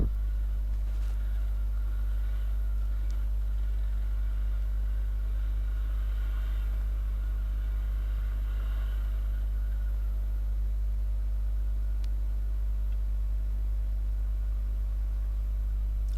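A Viper 200 motorcycle rides carefully along a road, its engine a steady low drone and rumble with little change in pitch. No speech is heard.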